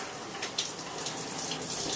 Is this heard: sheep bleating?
no